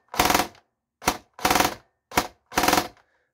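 An airsoft P90 electric gun with steel bushings, a steel rack piston, M120 spring and G&G 18K motor fires in loud, close bursts, five separate quick bursts spread over about three seconds with short gaps between them.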